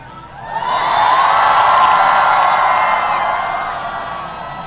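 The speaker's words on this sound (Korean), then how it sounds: "우리 모두 함성을 한번 외치고" A large crowd at a Busan campaign rally for presidential candidate Moon Jae-in roars, cheers and shouts together in one sustained swell, loud and broad, slowly fading toward the end.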